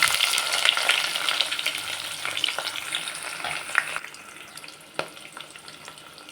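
Onions and curry leaves sizzling in hot oil in a pan, a steady close crackle and hiss with occasional stirring scrapes and a few sharper pops.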